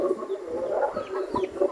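Four-week-old chickens in a cage set beside grass cluck repeatedly in short, close calls that overlap in a busy, lively murmur.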